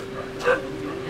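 A dog barks once, a short, fairly close yelp in the middle of a low, steady background hum.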